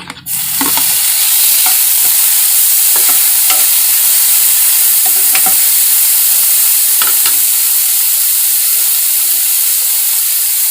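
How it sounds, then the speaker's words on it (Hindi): Chopped tomato dropped into golden-fried onions bursts into a loud, steady hiss and sizzle, with faint scraping stirs running through it and no talk. "यहाँ पे देखिए प्याज भून चुका है। अब मैं इसी में डाल देती हूँ ये कटा हुआ टमाटर।"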